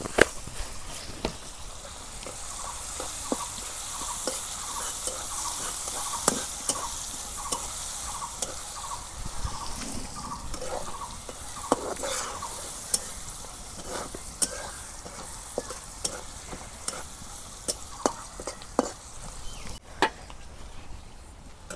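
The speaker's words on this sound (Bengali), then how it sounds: "একটা তেজপাতা দিয়ে দিলাম বাগারের মধ্যে।" A bay leaf and cumin seeds sizzle in hot oil, tempering for a beef dish, giving a continuous close hiss broken by small crackles and the light clinks of stirring.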